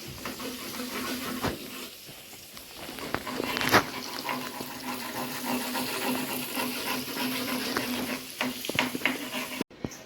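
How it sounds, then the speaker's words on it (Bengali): Chicken pieces frying in oil in a pan for a home chicken fry, giving a steady, moderately loud sizzle with occasional sharp pops and stirring clatters throughout. "এখন আমি চিকেনগুলো ভাজছি।"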